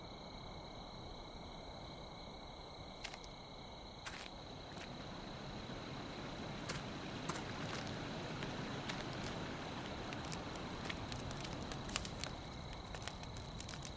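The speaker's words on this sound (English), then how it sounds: "It's quite the campfire." A video game campfire crackles faintly with scattered sharp pops and snaps over a soft, steady hiss, quiet and close, with no voices.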